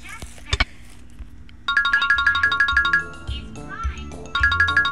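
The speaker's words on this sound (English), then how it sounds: "I think someone's phone is ringing." A mobile phone rings in a classroom, with a repeating electronic ringtone starting partway through, pausing and then resuming, loud and close, with a brief kid's voice and a couple of thumps before it.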